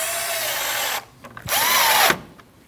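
A power drill drives 7mm bolts on top of the grille of a 2013-2019 Ford Escape 1.5L, with two loud close whirring bursts and a brief clunk between them.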